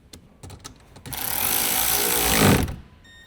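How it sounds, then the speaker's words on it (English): Small electric impact wrench with a T25 Torx bit socket tightening a mounting bolt on a Ford Escape engine, a few faint clicks then a loud continuous whirring burst of about a second and a half, nearby and alone. "Use a small size T25 Torx bit socket with a small size electric impact wrench to tighten it."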